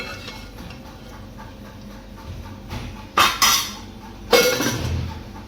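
Utensils are washed and scrubbed at a home sink, with soft scraping giving way to several sharp metallic clatters of dishes and pans being set down, close and loud.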